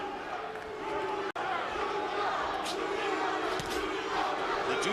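Boxing fans at a Zab Judah vs Cory Spinks fight chant in a large arena crowd, a sustained roar of voices with rising shouts, steady and loud, under a brief cut in the middle.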